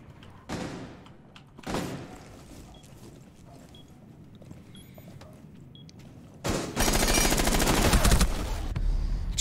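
Gunfire in a tactical shooter match, with two isolated shots early on, then a loud sustained burst of rapid automatic fire near the end over quiet game ambience.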